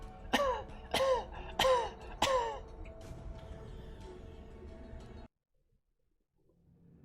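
A voice imitates coughing creatures: four sharp, raspy coughs in a steady rhythm, followed by a faint murmur and then near silence.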